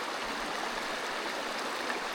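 A mountain creek crossing a trail on a bikepacking route near Flathead Pass flows steadily, a close, continuous rushing wash of water with no other sounds.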